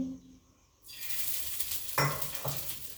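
Ghee hits a hot griddle for milk patishapta: a near hiss of sizzling rises suddenly after a quiet moment and holds steady, broken by two soft clinks of a utensil against the pan.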